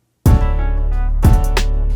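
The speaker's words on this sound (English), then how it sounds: "So in the mix, it's going to sound like this. So this is before," Snare drum sitting in a full loud music mix before any high-shelf boost, two hits about a second apart over sustained bass and tonal parts, with no voices.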